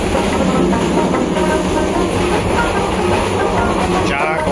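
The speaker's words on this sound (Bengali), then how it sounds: "জলম্বর ট্রেন ময়মনসিংহের দিকে যাইতেছে" The Bijoy Express, running from Chattogram toward Mymensingh, rumbles loudly and continuously as heard from inside a carriage, with a dense steady roar and rhythmic rail clatter throughout.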